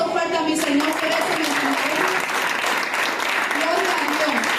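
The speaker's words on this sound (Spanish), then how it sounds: "Denle un aplauso fuerte a mi Señor por eso." A church congregation applauds loudly in a sustained wash of clapping, while a voice carries on over the top throughout.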